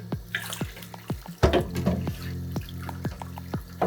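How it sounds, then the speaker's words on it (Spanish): Running tap water rinses soapy hands at a sink, a steady close splash broken by frequent sharp droplet plinks and irregular splattering as the hands move through the stream, with no voices. "vamos a enjuagar, dejando que corra el agua y que caiga."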